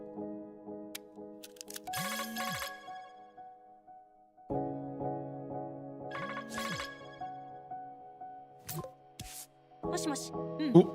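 A flip phone rings in a game trailer, repeated electronic ringtone bursts recurring several times over a synth music bed with layered effects, loud and clear.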